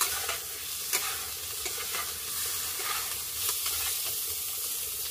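Potatoes and spices sizzling in a hot pan as a curry base is fried, a steady close hiss broken by repeated scrapes and clinks of stirring.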